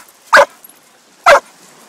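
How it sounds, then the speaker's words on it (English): A dog barks twice, sharp and loud, about a second apart, eager for a ball to be thrown on a beach, with no talk around it. "as you can hear, Tucker wants me to throw the ball"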